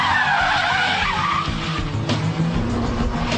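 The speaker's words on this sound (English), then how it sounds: "the handbrake turn followed by reverse flick" A Ford Puma performs a handbrake turn, tyres skidding and squealing loudly and close with the engine droning underneath for the whole stretch.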